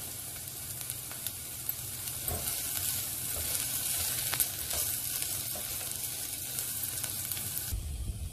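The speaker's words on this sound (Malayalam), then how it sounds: "ഉള്ളിയും ഇഞ്ചിയും പച്ചമുളകുമെല്ലാം നല്ലവണ്ണം വഴറ്റിയെടുക്കുക" Onion, ginger and green chili sauté in a pan with a steady, bright sizzle and occasional light stirring ticks, with no voices.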